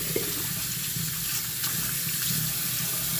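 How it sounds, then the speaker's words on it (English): Running tap water pours steadily over ombidi leaves being rinsed of sand in a colander, a continuous loud splashing hiss with no break, close by. "You just move it around to wash out the sand particles and give it a nice rinse."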